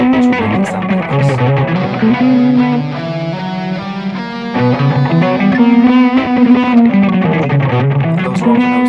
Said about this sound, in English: Whereas a C harmonic minor scale is the raised seventh note, which would make it sound like this.